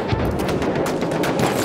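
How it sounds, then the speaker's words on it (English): Dense machine gun fire in a video game battle at Fort de Vaux, a loud, rapid stream of overlapping shots heard close over a short burst. "Machine gun sighted!"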